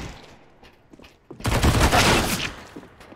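Counter-Strike AK rifle fire bursts out in a loud, rapid volley of shots after a quieter stretch of scattered distant noise, with no one talking over it.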